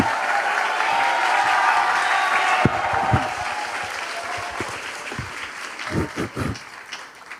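A church congregation at a Sunday service applauds to welcome a junior preacher to the pulpit; steady crowd clapping fills the first few seconds, then thins into scattered, fading claps with a few louder individual hand strikes near the end.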